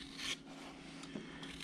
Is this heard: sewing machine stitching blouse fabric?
no